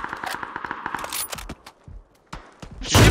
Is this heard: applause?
no